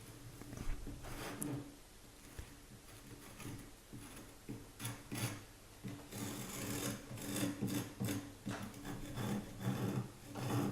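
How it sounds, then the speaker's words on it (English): Loose plaster being scraped off a plasterboard wall by hand, repeated gritty rasping strokes at close range in an uneven rhythm, some strokes louder and longer than others, with no talking. "Just scraping off any loose pieces of plaster"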